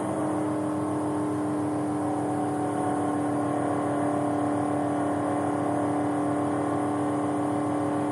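Steady engine drone with strong harmonic bands from a race car at a Richard Petty driving experience, held at constant revs through turns 3 and 4, loud and continuous with no talk.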